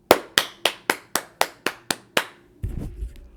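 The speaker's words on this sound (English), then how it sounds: "So let's give a clap to my friend's boyfriend." A small audience claps in a slow, evenly spaced series of about nine sharp claps, close and distinct, followed by a brief rumbling burst at the end.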